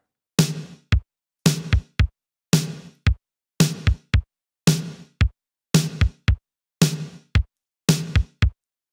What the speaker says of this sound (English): So that's the 707 straight out of the box with a little parallel compression going on everything.